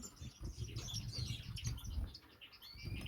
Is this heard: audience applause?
no